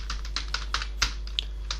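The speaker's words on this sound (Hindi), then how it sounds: "ये देखिए अब इसके अंदर हम टाइप करेंगे अपना कोड" Code being typed on a computer keyboard while building billing software in Excel VBA, heard as a close, uneven run of light key clicks with one sharper keystroke partway through and no talking.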